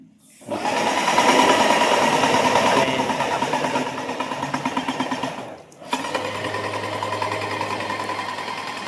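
A Graco GX19 airless paint sprayer runs while draining, giving a loud, steady mechanical buzzing drone that dips and drops out for a moment before resuming at a slightly lower, even pitch.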